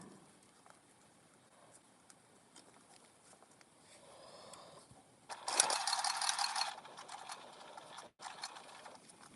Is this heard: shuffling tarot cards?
no